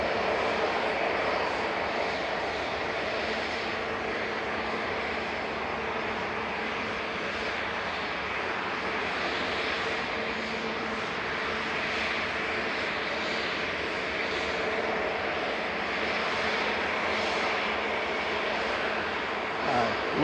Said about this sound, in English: GUZLM and A320neo operating this flight